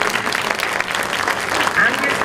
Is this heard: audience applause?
yes